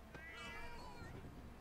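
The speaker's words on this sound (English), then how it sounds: "No, that's a cat. It's a tiny," A video game cat meows once, a drawn-out, slightly rising cry over a low background hum, close and clear.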